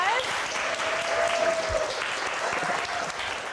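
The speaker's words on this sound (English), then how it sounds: "We're going to give her a round of applause." Steady applause from a crowd at a pitch contest, continuous clapping filling the room at moderate volume, with a faint tone and murmur underneath.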